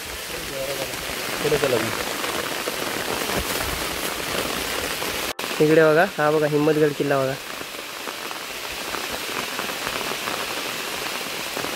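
Steady rain falls through a forest near a hill fort, a continuous broadband hiss throughout, with people talking over it in the middle.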